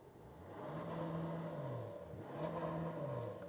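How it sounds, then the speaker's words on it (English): A Porsche Panamera 4S diesel engine revved twice while stationary, each rev swelling into a rising, fading drone, heard from nearby. "Can we please start the Panamera up? And can we rev it?"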